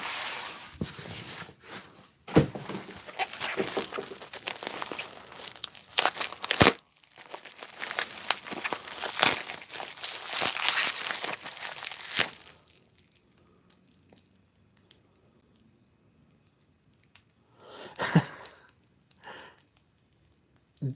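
Newspaper and butcher's paper packing being crumpled and torn while unpacking a box, loud close rustling and crinkling for about twelve seconds, then near silence broken by one more brief crinkle.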